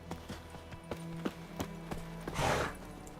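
Roach the horse galloping in The Witcher 3, rhythmic clip-clop hoofbeats at a steady pace, followed by a short breathy snort or whinny near the end.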